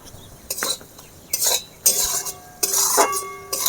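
A spoon stirs fried spices and salt in a cooking pan while making a Bengali fish dish, with several separate bursts of metal scraping and clinking on the pan, close and clear, with quiet gaps between strokes.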